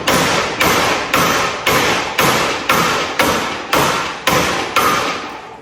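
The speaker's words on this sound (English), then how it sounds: "just go whack it until it comes off" A hammer strikes the steering wheel of a Ford F100 pickup nine times in a steady rhythm, each blow a loud, close metallic whack with a short ringing decay and no talking.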